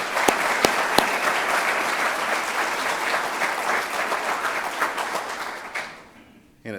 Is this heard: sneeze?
no